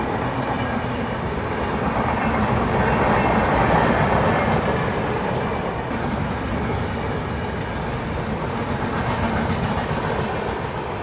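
The Purushottam Express overtakes at speed alongside, a loud, steady rolling rumble with rail clatter that holds close for the full stretch, swelling slightly midway.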